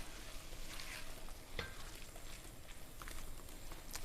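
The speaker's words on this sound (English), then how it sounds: "So give it all a good old stir." Lamb curry with spinach is stirred in a hot frying pan: a steady, close sizzle runs throughout, with a sharp scrape of the spoon against the pan partway through and lighter scraping afterward.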